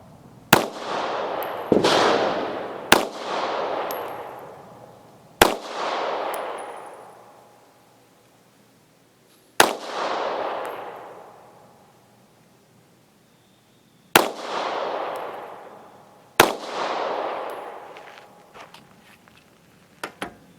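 Taurus GX4 micro 9mm pistol firing jacketed ammunition: about seven sharp, loud shots at uneven intervals, each followed by a long ringing echo and decay, with no talking.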